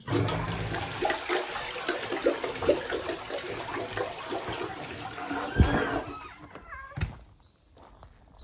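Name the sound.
toilet flush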